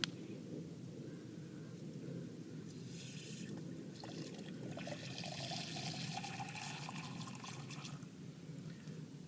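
Well water running from a tap while a sample is drawn straight from a home well system, a soft steady trickle and pour that grows louder toward the middle, with no voices.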